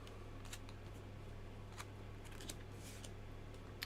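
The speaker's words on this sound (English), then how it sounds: "Shuffle my discards." A small deck of playing cards from a tin-packaged solo tower defense card game is shuffled by hand, giving soft, brief riffling and snapping bursts at close range, quiet and without talk.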